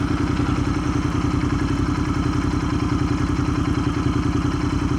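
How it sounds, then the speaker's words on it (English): A motorcycle engine runs at a high idle close by on a ride through Stowe, Vermont, with a constant rapid, throbbing clatter that holds steady throughout. "Motorcycle sounds like it has a high idle"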